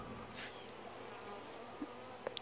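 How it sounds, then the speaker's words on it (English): Honey bees fly back toward their hive, giving a steady, faint buzzing hum with a few individual bees passing close by near the end. "Now these bees will fly back"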